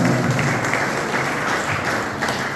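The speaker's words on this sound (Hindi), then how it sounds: "आपके ऊपर बजाइए ताली।" Audience clapping at a Hindi religious discourse, a steady dense wash of applause from a seated crowd that holds evenly for the whole stretch with no voice over it.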